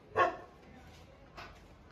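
Dog barking outdoors at night near a house, one short bark followed by a fainter second bark about a second later, fairly distant and quiet.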